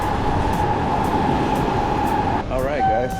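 A train waits at a station in Tokyo, Japan, giving a steady loud rumble with a sustained hum. A voice briefly cuts in near the end.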